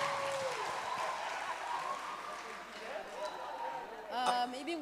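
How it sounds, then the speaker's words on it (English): Applause from a community gathering at a Workers Day celebration, moderate and somewhat distant, mixed with crowd chatter and voices rising near the end. "Give him another hand of applause"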